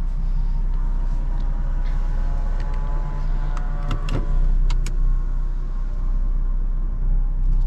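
A Jaguar F-Type S with a 3.0 V6 and open exhaust idles with a steady low rumble close by, broken near the middle by a few sharp clicks and a brief whirring motor.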